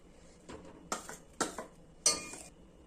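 Ground spice paste scraped and tipped from one cooking vessel into another, a few separate metallic clinks and scrapes of a spoon against the pot, close and fairly soft with quiet gaps between.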